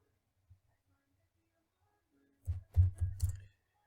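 A short burst of about five quick clicks from a computer keyboard, typed close by after near silence, with faint quiet background and no talk.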